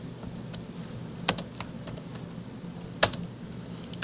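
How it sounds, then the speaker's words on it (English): Keys clatter on a computer keyboard in light, irregular typing, with a couple of louder keystrokes standing out against quiet room tone. "and I type in diameter"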